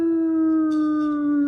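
A person imitates a fox howl with a long, steady, tonal voice held near and loud, sliding slightly downward over about a second and a half, with no other sound.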